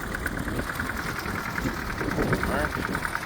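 A tractor engine runs steadily on old pasture land, a continuous mid-pitched rumble with a faint knocking texture and no clear pauses, sitting under outdoor background noise.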